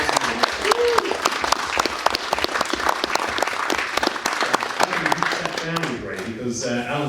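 A cinema Q&A audience claps for conservator Alan Friswell in the front row, a lively burst of close, sharp hand claps that fades after about six seconds as a voice begins talking.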